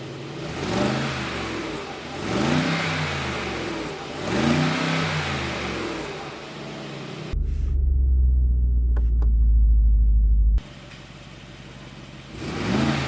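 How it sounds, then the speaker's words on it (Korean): A Mercedes G-Class (G-Wagen) SUV's exhaust with a variable exhaust system roars through several deep, rising revs in steady bursts, then a heavy, close low rumble holds before the engine settles back. "배기음을 들어보겠습니다"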